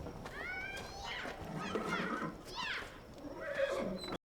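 A war horse whinnies several times in a drama scene, loud and close, with rising and falling neighs and no talk over them.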